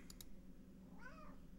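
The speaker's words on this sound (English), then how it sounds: "My cat's hanging out as usual." A house cat gives a single short meow close by in a quiet room, following two quick clicks from a computer keyboard.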